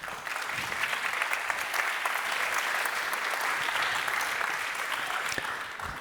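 Steady applause from an audience at a global economics forum in Berlin as a panel of company CEOs is welcomed, dense, even clapping filling the room at moderate volume throughout.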